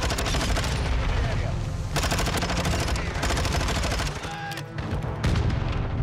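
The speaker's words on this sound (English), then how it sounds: "Grenade spams." Rapid gunfire and grenade blasts from a Call of Duty multiplayer match with a Vaznev-9K build, a dense, loud continuous barrage of shots and explosions with a brief dip near the end.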